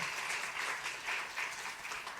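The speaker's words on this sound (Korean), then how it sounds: "김명성, 김혜수 박수로 환영할까요?" A church congregation applauds during a Sunday service to welcome newcomers: steady, continuous clapping from many hands filling the room, fairly even in level throughout with no voices standing out.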